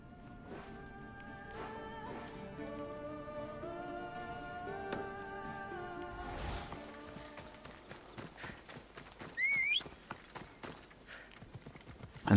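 Horse hooves clip-clopping in the video game Assassin's Creed, a quiet steady trot beneath game music and ambient tones, with a brief whinny-like sound near the end.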